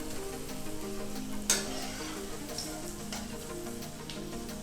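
Banana fritters frying in oil on medium heat, a steady soft sizzle and crackle with one sharp pop partway through, fairly quiet and unbroken, no voices over it.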